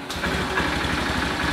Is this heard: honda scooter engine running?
yes